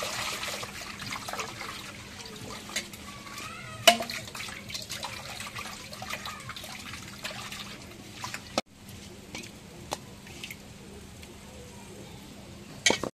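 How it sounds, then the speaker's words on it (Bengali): Shing fish being rinsed under running water: a steady trickle and splash with occasional sharper knocks and clatters, fairly close, and no talking. "এখন মাছ ধুয়ে নেই।"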